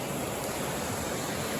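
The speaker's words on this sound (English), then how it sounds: "they call that Sheep Canyon Falls, Sheep Falls" Sheep Canyon Falls on the Toutle Trail: a waterfall's constant broadband rush, loud and close, steady without pause throughout.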